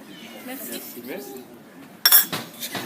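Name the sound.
spoon and dishes clinking at the table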